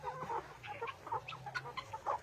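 Chickens, young birds in a greenhouse, clucking in short, busy bursts, several birds close by, with a low rumble underneath.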